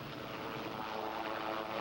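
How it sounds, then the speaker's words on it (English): A Coast Guard rescue helicopter hovers during a water rescue at Harborfest 1981, its engine and rotors giving a steady, moderately loud droning roar without speech. "Within minutes, a Coast Guard helicopter was there with a basket extended to rescue its victim."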